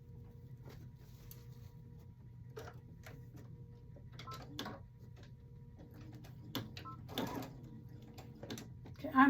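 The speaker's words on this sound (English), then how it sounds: "we're going to start sewing this side down" A sewing machine stitches a seam down the side of a placemat being made into a basket, running as a quiet, steady mechanical whir with scattered ticks and clicks, faint and close, with no talking.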